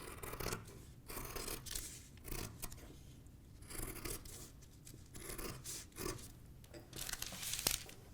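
Scissors snip and slide through a paper sewing pattern in quick repeated close-up cuts, with light paper rustling between strokes and no talking.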